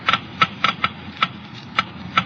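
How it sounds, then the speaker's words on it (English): A Geiger counter in a motor oil wear test clicks slowly and irregularly, about eight sharp separate ticks over a faint background hum, from an old radio broadcast. "let's listen to the Geiger counter slowly click off the low wear rate of new RPM"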